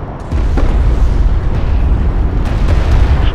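A destroyed enemy railgun explodes in Homeworld: Deserts of Kharak, a loud deep boom that swells and rumbles on as a sustained roar with scattered crackling bursts.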